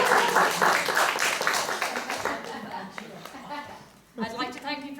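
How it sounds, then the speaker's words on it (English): Audience applause at a live improvised comedy show staged as a courtroom drama, dense clapping that swells at the start and thins out, with a voice speaking near the end. "If you believe she is not guilty, please clap now."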